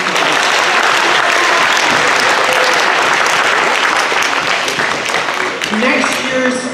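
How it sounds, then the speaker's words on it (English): Dense, steady applause from an audience at a school awards event, loud and sustained throughout with no pauses, a few voices faintly mixed in. "So let's give her a real round of applause."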